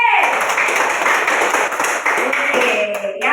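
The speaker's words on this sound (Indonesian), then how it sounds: "tepuk tangan untuk kelompok B." Students in a classroom clap for a group, a loud, busy round of handclaps filling the room, with voices mixed in beneath it.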